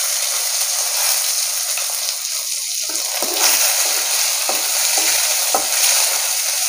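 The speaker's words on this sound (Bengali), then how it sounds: "এই টমেটোটা দিলাম" Chopped tomato frying with bay leaf, cumin and chilli in a pan, a steady loud sizzle with a few soft stirring clicks.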